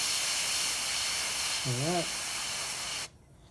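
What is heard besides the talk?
airbrush spraying Mission Models paint on a model kit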